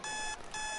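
A video game alarm clock in a football game rings with a shrill electronic tone, sounding as two quick bursts separated by a short gap, loud and clear with no talk over it.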